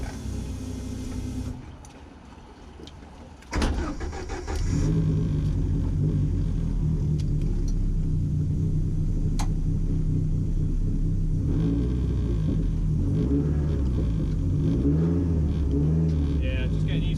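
From inside a twin-turbo Ford Fiesta on the move, a steady, deep engine rumble fills the cabin. It swells as the car pulls away after a brief shift-like dip.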